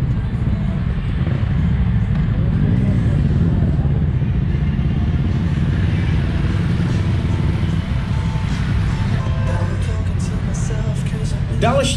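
Yamaha MT motorcycles, among them the MT-03 and MT-10, come back from test rides at an Ostrava demo tour, their engines a continuous loud low rumble close by with a voice speaking over them.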